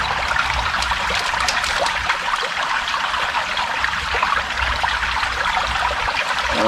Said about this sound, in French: Donc je mets de l'eau là-dedans.